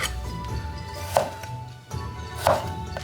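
Knife cutting through partly frozen meat being sliced into even strips for teriyaki jerky, with two distinct crisp slicing strokes standing out over low kitchen background noise.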